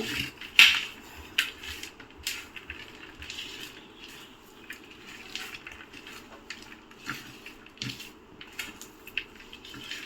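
Mashed jackfruit seed with other ingredients being mixed by hand in a bowl, soft irregular clinks, taps and squelchy rubbing, close and quiet, with one sharper knock near the start.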